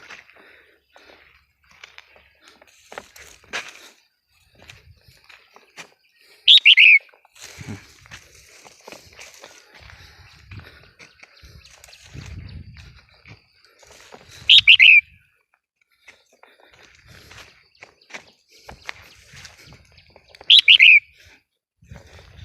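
Sparse chirps of caged red-whiskered bulbuls, three sharp tweets spaced apart, over faint rustling and background noise.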